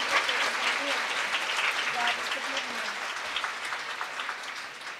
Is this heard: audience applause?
yes